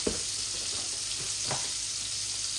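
Onions sizzle and fry in a pan with cumin, giving a steady close hiss with a few soft stirring scrapes and no voices.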